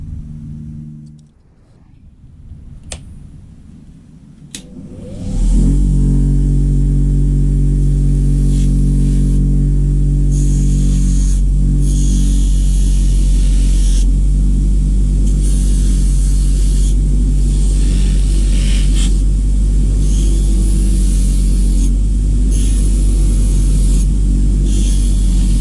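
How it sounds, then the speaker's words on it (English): A bench wire wheel spins up after a few faint clicks and settles into a loud, steady whir and hiss as old steel caliper case hinges and corner brackets are pressed against it, the scratching tone shifting as parts move. "just to clean them up on the wire wheel"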